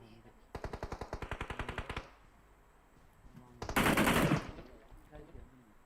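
Rapid automatic gunfire in the PUBG Mobile video game, a steady burst of about fifteen shots followed by a second dense, louder burst, heard up close with faint talk around it.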